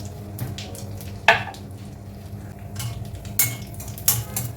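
Cashews and peanuts frying in a pan with cumin while coriander rice is cooked: a low, steady sizzle close by, broken by a few sharp clinks of a spoon against the pan, with no talking.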